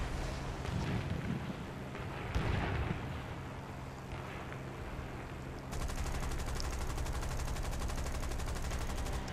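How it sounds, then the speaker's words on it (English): Aircraft machine guns fire in the War Thunder video game as a Hurricane attacks a bomber, a dense continuous rattle over roaring engine noise that grows harsher and steadier in the second half. "He's shooting at this bomber."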